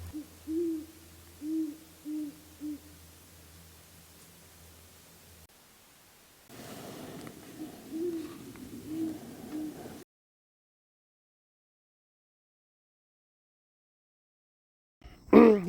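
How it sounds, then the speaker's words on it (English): An owl hoots several times in a steady rhythm close by, then a quieter stretch of muffled noise with more faint hoots, followed by silence and a brief knock. "Got an owl hooting close by."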